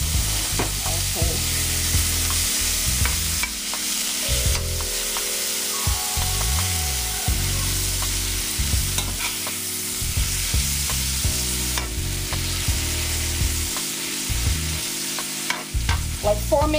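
Asparagus seasoned with salt and pepper sizzles steadily in a frying pan, a dense continuous hiss and crackle with occasional stirring scrapes, close up and without talk.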